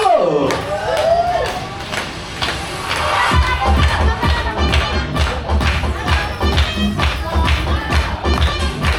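An audience at a dog show in a safari garden applauds the performing dog Alo, with dense clapping and crowd noise building after a brief spoken introduction and continuing steadily.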